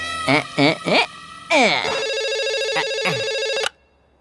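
A few short electronic chirps, then a steady telephone ring tone repeats loudly and cuts off abruptly, sounding like it plays through a phone speaker.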